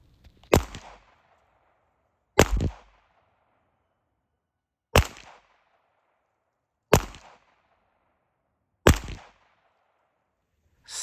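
Suppressed Ruger Mark III pistol firing CCI standard velocity .22 rounds: five sharp, evenly spaced shots roughly two seconds apart, each a loud crack with a short decay, silence between.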